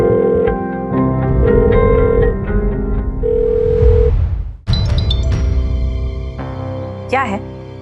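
A phone call's ringback tone repeats in short electronic bursts while a girl redials in a Hindi TV drama, mixed with background music and a brief voice near the end.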